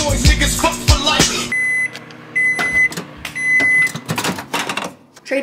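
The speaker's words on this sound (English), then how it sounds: "Trader Joe's microwave pasta taste test." A microwave oven heats Trader Joe's microwave pasta, its hum running under a series of repeated electronic beeps, with clatter and handling noises around it in a home kitchen.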